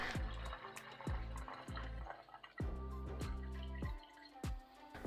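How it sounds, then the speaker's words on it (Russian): Citrus vinegar poured from a bottle into a spray bottle: a close, continuous gurgle of liquid with repeated glugging bursts and a rising fill tone, with no speech. "беру бутылочку с распылителем и переливаю в нее цитрусовый уксус"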